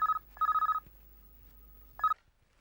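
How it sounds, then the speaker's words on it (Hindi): Telephone ringing indoors, two quick bursts of rapid electronic trilling rings separated by a pause, then a third short ring that cuts off. "फोन उठाओ।"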